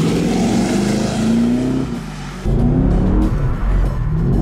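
A Chevrolet Camaro drifting around a roundabout, its engine revving hard in loud, close surges, with a brief dip near the middle before the roar climbs again and wavers through the rest.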